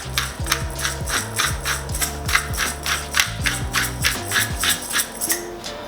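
A pepper grinder twists over creamy mac and cheese sauce, giving a quick run of close, crisp ratcheting clicks in steady repeated bursts, with no speech.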